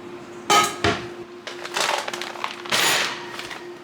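Dry ingredients for sugar cookie dough going into a mixing bowl, a few loud clattering knocks and rustling pours in close succession, nearby, with no talk.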